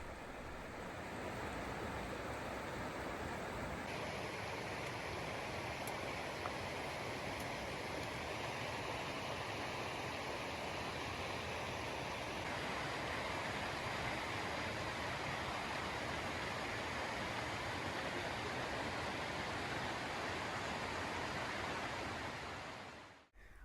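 Cascade Creek rushing beside a hiking trail in Cascade Canyon, Grand Teton, a constant broadband roar of flowing water that stays loud and even throughout, with no voices.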